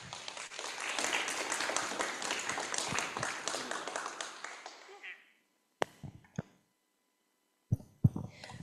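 Audience applause for the speakers at a university astronomy lecture series, a full round of clapping that fades out, then a few scattered claps and taps in a quiet hall.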